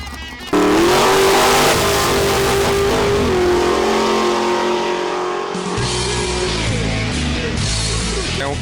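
A carbon-bodied race car of about 1000 horsepower starts up loud and close, its engine climbing in pitch through a long acceleration before a gear change lifts the roar again, with no voices over it.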